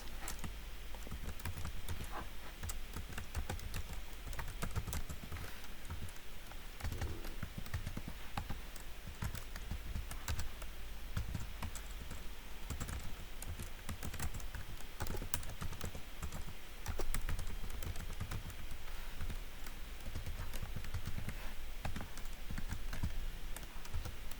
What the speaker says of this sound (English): Let's type in two more learning content.